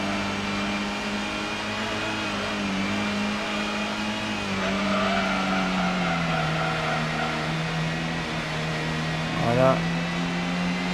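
Race car engine droning steadily through a corner in Gran Turismo on the 1998 PS1, a constant tonal hum that shifts pitch midway, with a short squeal-like sweep near the end and game music or voice underneath.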